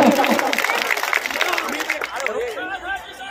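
A crowd at an Urdu mushaira poetry gathering applauds in a loud wash of clapping that fades after a couple of seconds into crowd chatter and voices.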